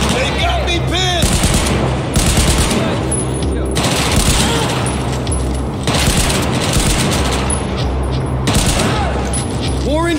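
Dense automatic gunfire and explosions fill a Battlefield 4 campaign firefight in Baku, with loud, continuous bursts and booms throughout and brief shouted voices mixed in.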